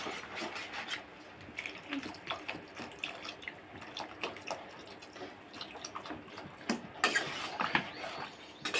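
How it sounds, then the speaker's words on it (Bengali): Water splashes and gurgles from a bottle into a pot of chicken curry on a home stove, a close, uneven pouring with intermittent clinks of a utensil. "দেখো বোতল থেকেই ঝোলের জল দিয়ে দিচ্ছি"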